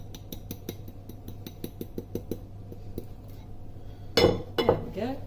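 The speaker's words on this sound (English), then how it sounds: "And I'm going to mix these together until it's a nice light brown consistency." Sugars stirred into batter in a bowl: a run of rhythmic clinks of utensil against bowl, then a louder scrape and clatter near the end, close by.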